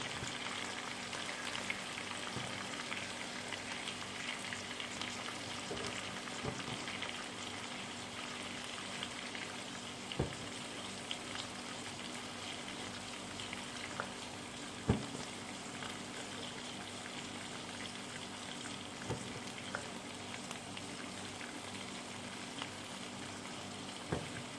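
Chicken frying in oil for highway karahi, a faint steady crackle and sizzle with occasional sharper pops throughout.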